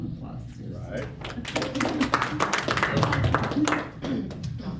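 A small group at a business mixer gives a round of applause, a short burst of nearby clapping that swells and fades, with voices talking over it.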